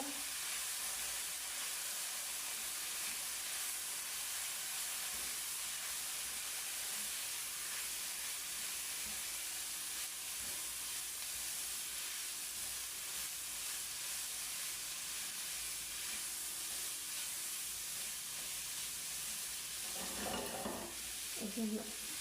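Shaariya noodles with chicken and vegetables stirred in a pan, giving a faint, steady sizzle and hiss with occasional soft scrapes, a little louder near the end, and no talk.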